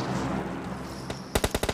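Video game gunfire: a rapid burst of about six sharp shots near the end, following a stretch of quieter background noise.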